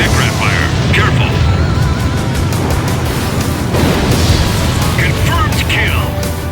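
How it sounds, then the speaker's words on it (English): Anti-aircraft fire bursts and booms fill a combat flight scene in the video game Ace Combat 3D, a loud continuous roar with scattered cracks, heard under radio voice chatter. "That's some heavy anti-aircraft fire."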